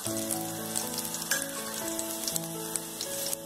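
Garlic fries in hot oil for a Chennai-style fish curry, a steady close sizzle with light crackling pops throughout and no voices.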